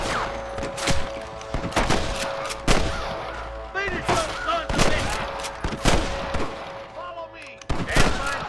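Gunfire in Red Dead Redemption, a Wild West shootout with repeated sharp shots at irregular intervals, some close and loud, others more distant, mixed with background shouting.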